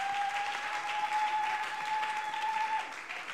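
A church congregation applauds in steady, dense clapping throughout, with a faint sustained tone running beneath it and no clear speech.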